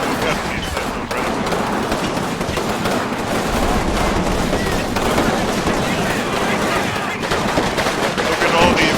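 Rifle grenades fire at German troops in the Combat Mission war game Rome to Victory amid loud, dense gunfire, with rapid cracks and bangs piling up continuously over a churning battle din.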